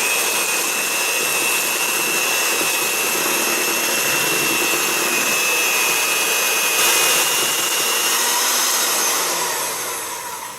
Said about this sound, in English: So I'm just going to mix this up.